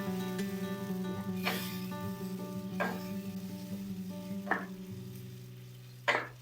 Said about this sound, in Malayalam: ഈ തക്കാളിയുടെ പച്ച വാസനയില്ലേ, സ്മെല്ല് മാറുന്നത് വരെ നമുക്ക് വഴറ്റിയെടുക്കണേ.